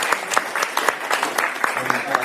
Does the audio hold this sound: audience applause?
yes